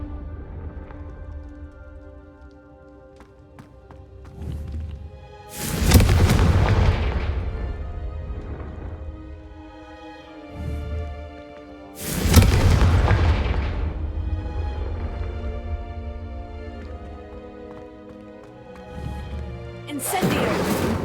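Confringo fire-blast spells in Hogwarts Legacy, two loud booming explosions with long rumbling decays, set over a steady game soundscape with faint voices.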